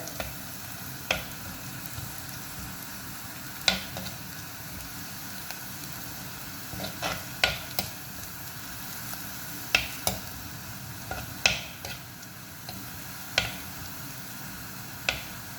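Steady sizzling of onions browning in a pan for dried fish and mango curry, with occasional sharp crackles and pops from the hot oil, close and continuous without talk.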